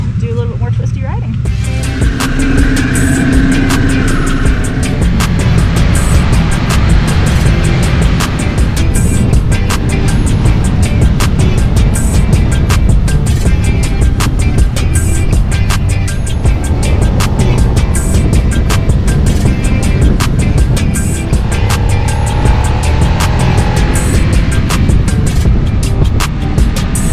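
A 2022 Harley-Davidson Sportster Nightster (RH975) rides up Highway 33, its engine a loud, constant close roar blended with heavy wind rush throughout.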